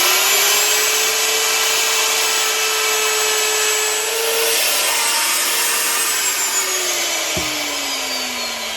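A power router whines steadily at high pitch as it rounds over the edge of a wooden desk board, its tone dipping slightly near the end before spinning down.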